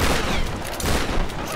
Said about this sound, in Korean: 샷건 쏴야지.